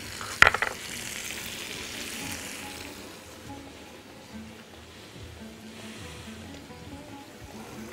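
Onions, peppers and thyme sizzle and fry steadily in a pan while being stirred, with a brief clatter of the utensil near the start and a continuous hissing bed throughout.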